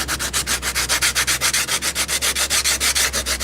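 Auto body filler being hand sanded with sandpaper: rapid, steady back-and-forth strokes with an even scratchy rasp, loud and close, with no voices.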